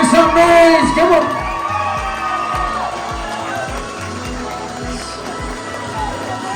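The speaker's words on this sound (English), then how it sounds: "big round of applause for the bride and groom. Keep them hands coming. Make some noise." Wedding party guests cheer, whoop and clap for the bride and groom at an event venue. The crowd noise is loud at the start and then settles into a steady, busy wash of cheering and chatter.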